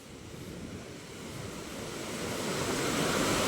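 Sea surf washing up around a beach hut and its fence, a continuous, rumbling roar of water with wind noise that swells louder toward the end.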